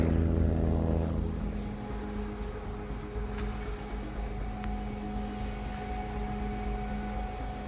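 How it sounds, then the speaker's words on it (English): A ski-equipped LC-130 Hercules military cargo aircraft lands at Joint Base Elmendorf-Richardson in Anchorage, Alaska, its propeller engines giving a steady, moderately distant drone and hum that is loudest at the start and then eases off. "an LC-130 coming in for a landing at Joint Base Elmendorf-Richardson in Anchorage, Alaska"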